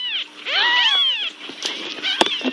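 A pet cat gives several clear, rising-and-falling meows up close, with short pauses between calls and some light handling noise near the end.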